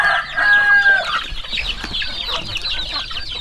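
Several chickens cluck nearby in a busy, overlapping chatter, with one higher drawn-out call standing out at the start.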